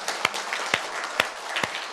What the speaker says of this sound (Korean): 박수로 한번 격려합시다.